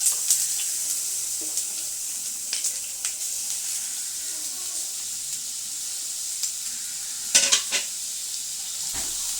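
Grated carrot and sago sauté in ghee in a pan, a soft steady sizzle with occasional faint scrapes and taps of the spoon, alone and without talk.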